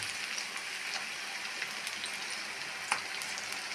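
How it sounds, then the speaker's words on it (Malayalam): Egg frying in a pan, a faint, steady crackling sizzle with scattered small pops and spits, heard alone without voices. "വെച്ച എഗ്ഗ് നന്നായിട്ട് ഫ്രൈ ആയി"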